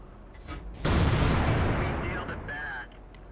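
One heavy tank cannon shot in World of Tanks, a loud sudden blast that rolls out into a long rumbling tail, with faint whistling tones after it and no talking.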